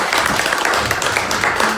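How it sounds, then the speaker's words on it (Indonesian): A congregation claps hands during a special worship service, a brief burst of dense, close clapping with faint voices underneath. "mau bagi semangat, tepuk tangan biar kali dulu"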